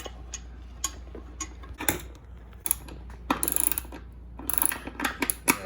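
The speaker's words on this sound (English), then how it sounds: "The bolt's actually gonna thread into the seat." A bolt is threaded into the seat of a Fitness Gear Pro Series Olympic weight bench, heard as close irregular ratcheting clicks and rattling metal taps in short bursts.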